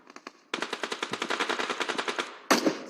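Rapid DBS shotgun fire in a PUBG Mobile esports match at the SEA Games, a loud burst of about twenty evenly spaced blasts after a few quieter shots, then another heavy blast at the end.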